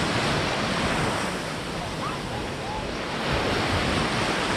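Steady, loud surf at Golden Beach in Skala Panagia on Thassos, a continuous broadband wash of breaking waves with wind buffeting the microphone throughout.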